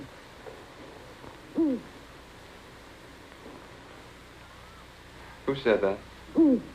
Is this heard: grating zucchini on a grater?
no